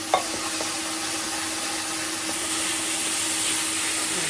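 Cumin seeds sizzling in hot oil in a village kitchen in Punjab, a steady close hiss of frying that runs the whole time with a light clink near the start and no talking.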